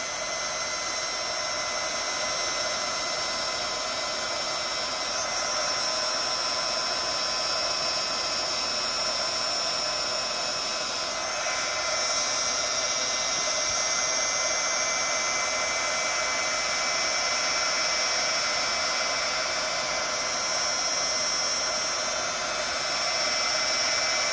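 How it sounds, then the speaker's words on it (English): Steady, loud whooshing roar of a heat gun blowing continuously while making a tumbler, a constant hot-air hiss with a whining motor tone, no talking. "So, heat gun. Sorry about the noise."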